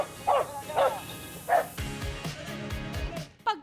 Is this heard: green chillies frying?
no